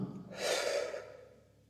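A single deep breath taken during a guided breathing exercise: one long, airy inhale-exhale that swells and then fades out, close and moderately loud, with no talking.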